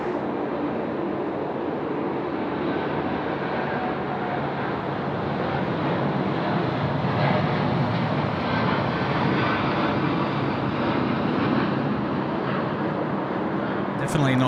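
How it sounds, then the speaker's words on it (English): A Boeing 787 departs Sydney Airport, its jet engines a broad steady roar swelling slightly as it climbs, heard from a plane-spotting spot with people talking over it. "Another 787 departure."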